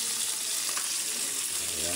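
Snails are dropped into a cooking pot, giving a continuous close bubbling sizzle of hot liquid with a faint voice underneath.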